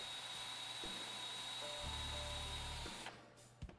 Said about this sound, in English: Then I can use that brad point bit to pre-drill a hole in the center of that stock.